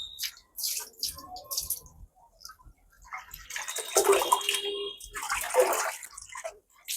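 Water is poured over hair during a wash, coming in separate splashing bursts with quiet pauses between them.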